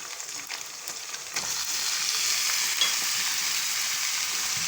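Beef keema frying with browned onions in a pan, a steady broadband sizzle that swells louder after a second and holds on, close and without talk.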